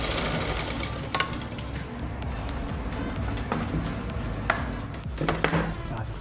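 A sewing machine stitches a pocket onto a men's pajama. Its steady, close mechanical whirr runs continuously without pause, with occasional sharp clicks and no talking.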